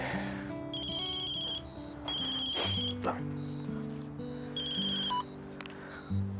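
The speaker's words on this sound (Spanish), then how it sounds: "Es el teléfono de Vanina que no se lo devolví." A mobile phone ringtone rings in three loud bursts with pauses between them, alongside music and background sound in a Spanish TV drama scene.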